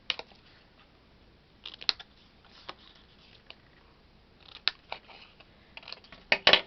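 Scissors snipping the corners off a scored paper card for a handmade teacher gift, a sparse run of quiet, close crisp clicks and short cuts with pauses between, clustering into quick bursts near the end.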